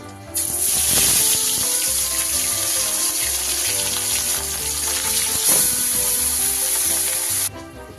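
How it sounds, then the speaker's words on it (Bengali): Pieces of rohu fish fry in hot oil in a pan, giving a loud, steady, hissing sizzle with crackling bursts that runs almost unbroken for several seconds before cutting off. "তেল গরম হলে আমি সবার প্রথমে মাছগুলোকে ভেজে নেব"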